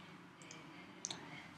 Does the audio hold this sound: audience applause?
no